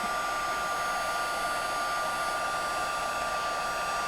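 Heat embossing tool blowing hot air onto the back of a paper craft piece, a steady loud whooshing hiss with a fan whine, continuous and alone.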